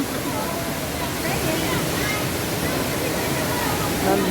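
A loud, steady roar of Bulawan Falls, constant broadband rushing water filling the whole clip.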